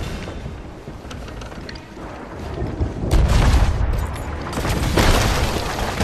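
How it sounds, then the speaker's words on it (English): Ship cannons firing in the pirate video game Sea of Thieves, heavy booming blasts around three and five seconds over a continuous rumbling roar of sea and battle noise. "man the fucking cannons!"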